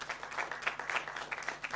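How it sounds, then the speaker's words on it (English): Applause from the audience at the India Pavilion inauguration in Cannes, a short burst of scattered clapping that sounds fairly distant and moderate in level, with a faint steady hum beneath. "A big round of applause for Deepika."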